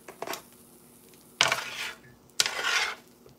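Metal tongs scrape onions and pork off a hibachi griddle in two long, bright scraping strokes, with a few lighter clinks before them, close and loud against a quiet background.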